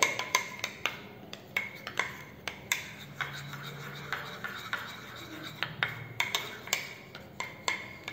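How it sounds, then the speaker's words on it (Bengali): A spoon stirs a cornflour mixture in a bowl, making a quiet, regular series of light scraping clicks against the bowl, steady and close, with no talk. "এটাকে ভালোভাবে মিশিয়ে নিতে হবে।"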